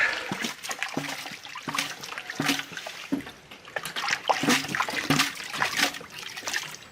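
Crushed rock is panned in water for gold, producing continuous close sloshing, trickling and splashing with irregular swirling surges throughout.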